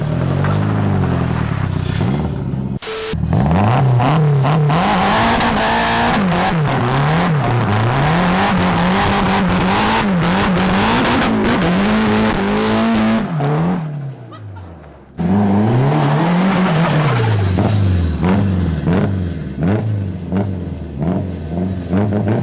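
A Nissan 180SX with an SR20 engine does a burnout, the engine revving hard and repeatedly at close range with tyre noise, briefly dropping before surging again, with voices under the roar.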